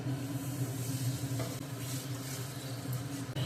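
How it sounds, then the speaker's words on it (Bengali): A sizzling pan of prawns with turmeric powder as a little water goes in, giving a loud, steady crackling hiss with stirring that runs continuously throughout. "হলুদ গুঁড়ো দিচ্ছি অল্প একটু জল দিয়ে দিচ্ছি"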